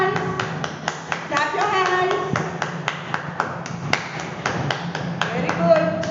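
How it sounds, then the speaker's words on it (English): Children in a classroom clap their hands in a series of sharp, uneven claps at close range, mixed with a teacher's voice and children's chatter. "Now clap your hands."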